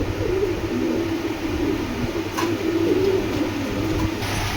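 Racing pigeons coo close by, a female nervous inside a cage, giving repeated low throaty coos over a steady background hum, with no talking.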